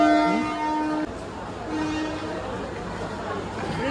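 Train arriving at Kalyan railway station in Mumbai, its horn blowing in short drawn tones over a busy platform's steady rumble and crowd noise.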